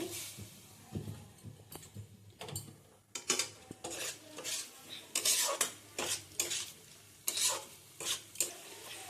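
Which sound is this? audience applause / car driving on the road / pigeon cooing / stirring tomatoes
stirring tomatoes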